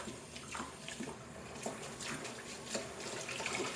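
Steady running tap water splashing onto dishes in a sink, with small clinks and shifting splashes as items are rinsed.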